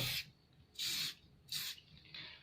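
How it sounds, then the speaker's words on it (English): Tensor adhesive spray hisses onto skin ahead of sports tape application, with four short bursts separated by brief pauses, the last one softer, close and fairly quiet. "I'm going to use the tensor spray just to make the skin a little bit more sticky"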